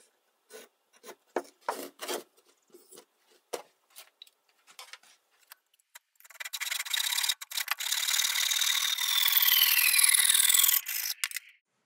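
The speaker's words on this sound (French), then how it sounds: "prenez le reste de la planche que vous n'avez pas utilisée et coupez un bout qui a la même largeur que la planche en question" Hand sawing of a leftover wooden board: scattered scraping strokes and pauses at first, then a fast, continuous run of rasping saw strokes, close and crisp, before the cut ends in quiet.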